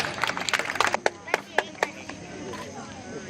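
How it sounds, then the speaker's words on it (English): Scattered hand claps ring out at the prize ceremony of a floodlit rapid chess tournament, a quick cluster of sharp claps followed by a few sparser ones, close by, with someone speaking over them. "Special claps."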